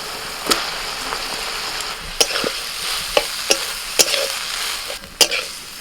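A boiled banana blossom and spice paste sauté in a hot pan. The oil sizzles steadily while a spatula scrapes and clacks in sharp, irregular strokes, close and fairly loud, with no voices.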